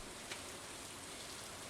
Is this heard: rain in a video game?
yes